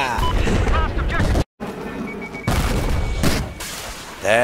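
Loud blasts from an MBT LAW launcher in a video game, several heavy booms in quick succession, with a voice shouting excitedly over them.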